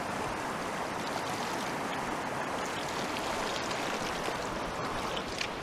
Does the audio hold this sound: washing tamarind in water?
yes